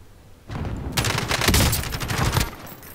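A dense burst of rapid video game gunfire crackles for about two seconds, loud and close, then trails off into quieter background noise.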